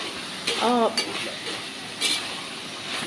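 Cashews and byadgi chillies fry in a pan with a soft, steady sizzle, broken by a few brief scrapes and clinks of stirring, close and moderately loud, with no talk.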